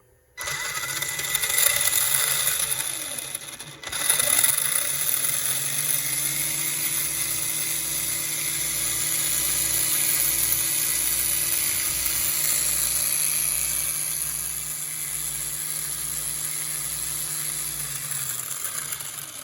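The electric motor of a Tamiya TT02 RC drift car with a mid motor mount spins up and runs, a high whine with a pulsing low drone, steady at close range and trailing off at the end.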